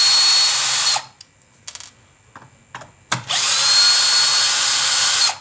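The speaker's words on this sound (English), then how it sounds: "So we get our T25 Torx bit and we undo these four screws." A power driver fitted with a T25 Torx bit backs out four screws from a square plate during a Dunlop exhaust valve seal fitting. Two long, loud whirring runs are separated by a quieter stretch of short clicks and handling.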